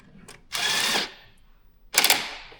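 Two short whirring bursts of a power driver tighten an 8mm hose clamp on the engine intake of a 2016 Jeep Cherokee 3.2L Trailhawk, close and fairly loud with a quiet pause between them.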